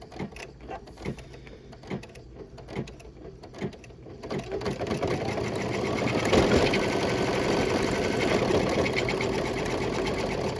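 A computerized embroidery machine stitches a window pane design, first with a few spaced mechanical thumps, then settling into a loud, steady rapid needle chatter close up, with no voices.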